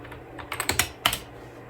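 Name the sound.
typing on an iMac computer keyboard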